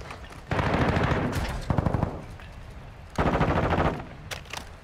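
Sustained automatic gunfire from Call of Duty: Modern Warfare II: two long, dense, loud bursts of rapid shots with a short pause between, and a few single cracks near the end.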